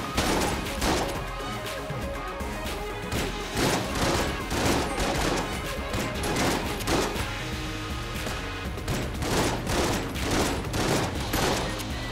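Shotgun blasts in the video game Enter the Gungeon boom out in rapid, repeated volleys, loud and close, with constant explosive bursts and little pause across the whole stretch.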